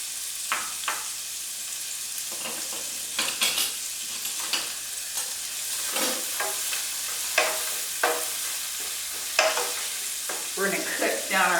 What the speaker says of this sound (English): So now I'm going to go ahead and put in our onions, which is a whole medium onion diced.